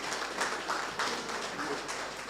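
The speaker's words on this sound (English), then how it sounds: "we should round this up with a round of applause for all of them" An audience at a photo exhibition marking the Punch newspaper's 50th anniversary gives a round of applause. Dense, moderately loud clapping goes on steadily with small surges and no voices over it.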